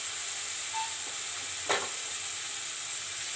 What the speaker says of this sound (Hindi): प्याज को आम हल्का फ्राई हला पर्यंत मिक्स करिया।